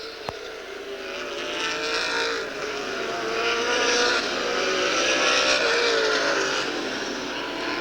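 A field of Superstock race cars circles the Ukiah speedway oval, their engines forming a continuous loud roar that rises and falls gently as the pack moves around the track, with no voices over it.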